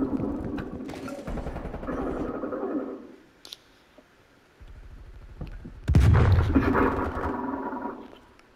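Gunshots in a video game shootout, bursts of sharp cracking fire in two loud clusters separated by a quieter lull with a few isolated shots.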